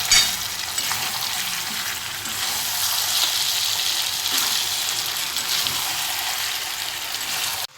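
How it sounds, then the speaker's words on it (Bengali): Potatoes frying in hot oil in a kadai give a loud, continuous close-up sizzle that holds steady throughout, with faint stirring beneath the hiss. "আলুগুলো একে একে কড়াইয়ের মতো দিয়ে আবার নাড়াচাড়া করতে হবে"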